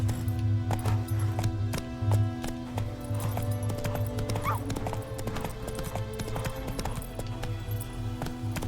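Roach the horse galloping in The Witcher 3, a quick, rhythmic clip-clop of hooves running steadily under a low game background hum, close and clear.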